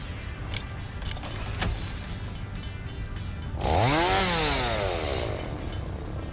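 Chainsaw in the video game Satisfactory idles with a steady rumble and a few clanks, then revs up with a rising, whining roar before settling, loud and close with no talking.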